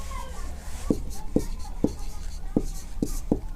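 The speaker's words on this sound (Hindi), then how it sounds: "हम लिखेंगे यहाँ" Chalk or marker writing on a classroom board during a math lesson: six short, evenly spaced tapping strokes under a steady background hum.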